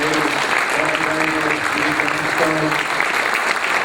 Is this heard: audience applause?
yes